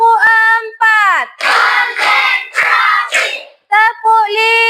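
A primary school class claps in a short rhythmic pattern on the teacher's count of four during a coding lesson, with bursts of clapping between her sung-out calls.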